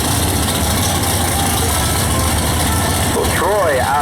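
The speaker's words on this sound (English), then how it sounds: "The engine's just struggling to find that air for horsepower." A large 825 cubic inch drag racing engine idles on a hot day at a drag strip during Mopar Days qualifying, a loud, steady low rumble filling the whole clip, with a brief rising whine near the end.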